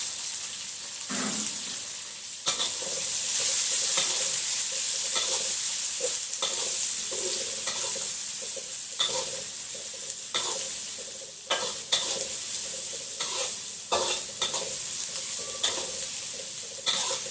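Garlic, dried red chillies and onion fry together in a pan, a steady loud sizzle running throughout with occasional scraping stirs from a spoon, close up and without talk.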